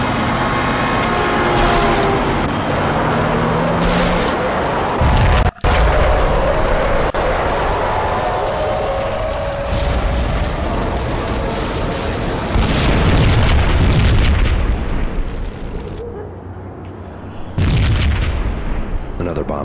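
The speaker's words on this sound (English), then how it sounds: "Another bomb exploded inside the closest slum building." Bomb blast inside a slum building in the Max Payne video game: loud, rumbling booms and crackling debris over dense game noise, with a brief cut and a voice speaking over the chaos.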